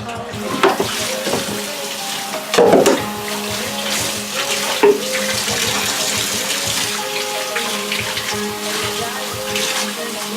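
Water from a tap rinses a Bichon Frise in a home bath, a loud, steady rush with splashy bursts as it hits fur and tub.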